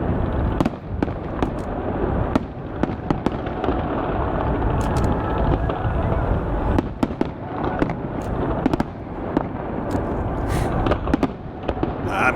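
Fireworks at the Calgary Stampede crackle and boom continuously in a dense, loud barrage of overlapping bursts and sharp pops, heard from a distance with no talking.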